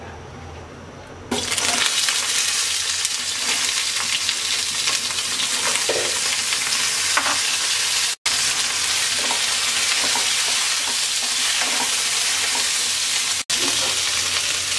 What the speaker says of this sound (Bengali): এবার আমরা ভেন্ডিগুলো ভেজে নেব।